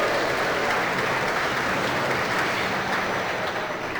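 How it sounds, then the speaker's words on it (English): Applause from the crowd at the 2023 Gage County Fair swine show, saluting the class winners with loud, dense, continuous clapping that holds steady throughout. "Let's give them one round of applause here real quick on this show."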